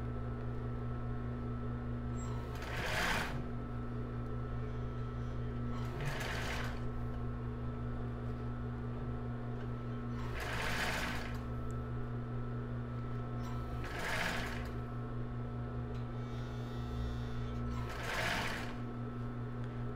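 A sewing machine runs in five short bursts of backstitching along a plus-size bra seam with raw Jaraguá elastic, the bursts evenly spaced over a steady low mechanical hum with no talk.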